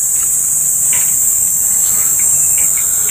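Crickets chirp in a dense, continuous high-pitched trill, loud and close, alongside a faint hiss and a few scattered softer sounds.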